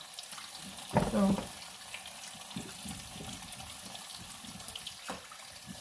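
Kitchen faucet water splashing as plums are rinsed for homemade plum jam, a louder burst of running water early on, then a steady low hiss of flow with a brief spoken word.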